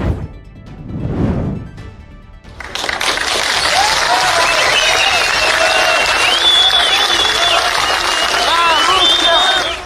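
Supporters of Gagik Tsarukyan break into loud, sustained applause after a short rumble, dense crowd clapping close by for the rest of the clip, with cheers mixed in.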